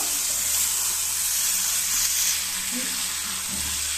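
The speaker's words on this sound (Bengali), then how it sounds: "এটা আমি ভালোভাবে নাড়িয়ে নেব" Soybean chunks with kasuri methi fry in hot oil while being stirred, producing a loud, constant close sizzle and hiss with faint utensil movement underneath.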